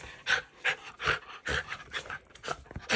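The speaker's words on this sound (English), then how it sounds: "This is my dog." A dog pants close by in quick, rhythmic breaths, about two per second, heard alone with no other sound.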